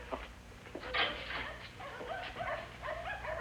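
A small watchdog whimpers and yips in soft, uneven bursts, close by, over a low steady background hum.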